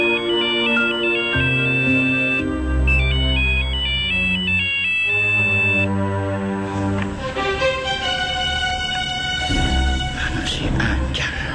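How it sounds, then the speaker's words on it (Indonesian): A phone rings loudly with a bright, repeating electronic melody while a call is placed to a father in an Indonesian TV drama scene, later blending into denser music. "Aku telepon bapak aku dulu ya."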